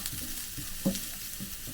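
Water spinach sautéing in a pan gives a steady soft sizzle with faint stirring scrapes and one brief louder clank near the middle, close by and with no talk.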